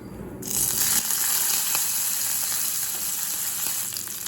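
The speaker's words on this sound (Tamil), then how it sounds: "இப்போ அடுத்தது தயிர் சாதத்தை தாளிச்சுக்கலாங்க." Steady loud sizzling and crackling as mustard seeds, urad dal and curry leaves hit hot oil for tempering curd rice, continuous and close with no talking.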